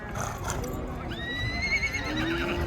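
At a horse market in Kyzylorda, a horse lets out a clear rising-and-falling whinny of about a second and a half, amid hoof clops and people talking nearby.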